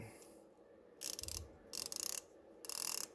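An Eastwood 3/8 inch drive flex-head ratchet gives three quick bursts of fine, rapid clicking close up and fairly quiet, with soft handling noise between them.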